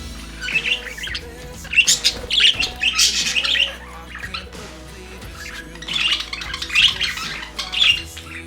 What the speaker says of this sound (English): I need to show you the excitement when Chucho returned to the aviary after spending 48 hours in my house.